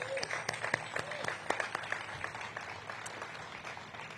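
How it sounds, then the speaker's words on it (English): Applause from a crowd at a mayor's housing announcement event, a steady patter of many hands clapping with scattered sharper claps, fairly close and continuous. "please join me in giving these awardees a round of applause"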